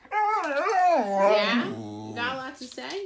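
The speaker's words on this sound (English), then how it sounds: "That's my dog." A dog whines and yowls in a long, wavering, howl-like vocal run, rising and falling in pitch for a few seconds, close by indoors, with a person's voice speaking over it.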